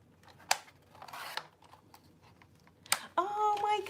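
Scissors cut a paper pocket to size for a junk journal, giving a few short crisp snips and rustles of paper at close range with quiet handling noise between them and a brief louder scrape at the end.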